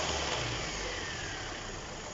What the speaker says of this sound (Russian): Шум идет от генератора.